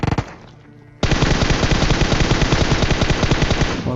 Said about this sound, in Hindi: अब फिलहाल देखो कैसे भरता हूँ इसको मैं M4 से।